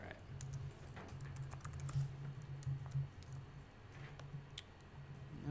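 Rapid, irregular clicking of computer keyboard keys during web coding work, steady and fairly quiet throughout, with a low hum underneath and no one speaking.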